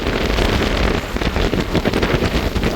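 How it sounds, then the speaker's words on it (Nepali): Strong wind roars and buffets the microphone in a loud, steady broadband rush while cycling along a shared bike path on a cold, windy day; no voices are heard. "एकदमै हावा चलिरहेको छ आज"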